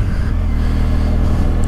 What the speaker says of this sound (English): Boxer engine, a little throatier